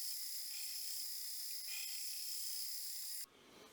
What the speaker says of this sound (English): now we got our handle ready to buff